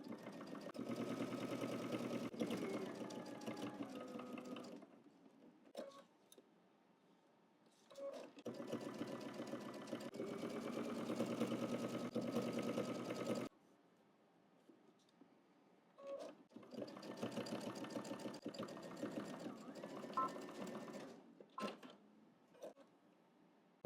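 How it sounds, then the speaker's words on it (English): Bursts of sewing machine stitching as a hem on workout shorts is top stitched: three long runs of steady motor whir, separated by quiet pauses with small clicks and handling sounds, fairly close. "let's head to the machine and we're going to top stitch the hem"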